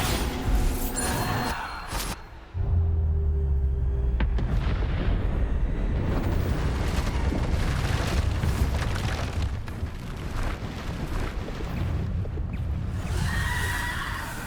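Bombarda spell explosions go off in Hogwarts Legacy, loud booming blasts and crackling impacts layered over a dense, continuous game soundscape with some louder bursts near the start.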